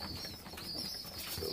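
Racing pigeons stir inside a loft cage before flight, giving soft coos and brief bursts of wing flapping, fairly faint against a quiet room with no talking.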